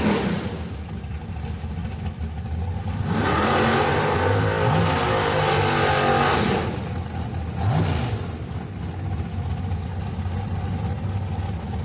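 Drag racers tear down the drag strip at Houston Raceway Park, a loud surging engine roar rising and sweeping past mid-clip with a second shorter burst after, over a steady crowd-and-track din.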